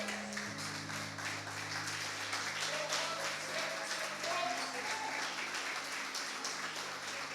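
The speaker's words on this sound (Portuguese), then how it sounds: "levante-se e dê uma linda salva de palmas ao Senhor nessa noite" A church congregation stands and claps for the Lord during an evening service, a soft, steady wash of applause heard at a distance beneath a low held musical drone.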